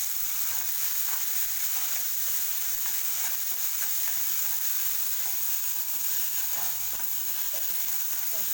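Shallow frying for a chana dal paratha filling hisses steadily in a pan, a constant bright sizzle with scattered soft scrapes of stirring, alone with no voices, even and unbroken throughout.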